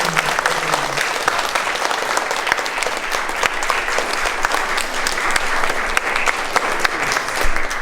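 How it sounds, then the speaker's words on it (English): A school assembly crowd claps for William Osman, a steady, full round of applause from many hands that runs evenly throughout. "So please, put your hands together and congratulate William Osman."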